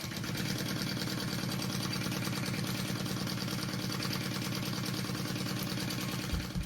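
A sewing machine stitches a bag lining in one continuous run, its rapid mechanical whir steady and close for several seconds before slowing at the end.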